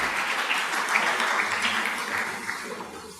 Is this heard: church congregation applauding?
yes